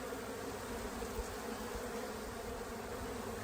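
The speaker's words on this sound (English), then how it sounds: "Got a few bees on my suit." Steady, dense buzzing of many honeybees close by at a forest hive, a continuous drone with no pauses or voices.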